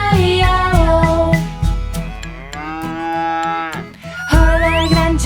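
A sung moo from a children's farm song, a voice imitating a cow's low drawn-out call over a bright, steady music backing, loud and close.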